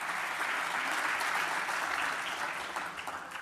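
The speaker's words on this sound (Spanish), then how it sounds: "Señores, por favor, aplauso." An audience breaks into dense, sustained applause, a loud wash of clapping that holds steady before tapering slightly near the end.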